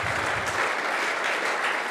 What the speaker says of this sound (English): Can we have a big round of applause, please, for Sally, who helped us out?